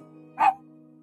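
A dog gives one short, sharp bark, close and clear, over a low steady background hum, with no talking.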